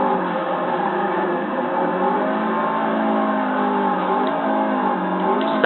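Race car engines in Forza Motorsport 6 on Xbox One roar steadily throughout, a dense sustained engine drone with slight shifts in pitch and no talking.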